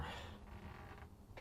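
A door creaks slowly open in a quiet room, a faint drawn-out groaning creak with a small click near the end.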